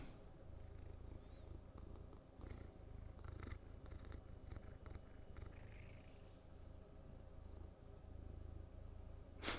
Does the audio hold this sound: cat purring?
yes